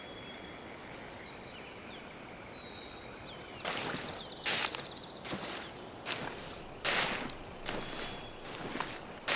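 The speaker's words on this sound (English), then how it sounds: "I just heard a footstep over here." Footsteps of a caribou in the hunting game theHunter: Call of the Wild, Yukon Valley, a run of soft crunching steps in the middle distance against a backdrop of birdsong and insects.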